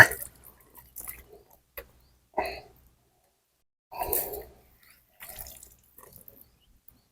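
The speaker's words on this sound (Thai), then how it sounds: "ใส่น้ำตามเข้าไป" Water is poured into a banjo fishing bait mix for freshwater fishing at a dam, heard as short splashes and trickles in several separate bursts, close and moderately loud, with gaps of quiet between.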